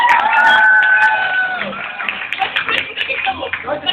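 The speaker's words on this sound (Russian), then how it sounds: "Аплодисменты нашим именинникам." Audience claps and cheers for teenagers celebrating birthdays at a youth church service, with voices and shouts over the scattered, fairly loud clapping throughout.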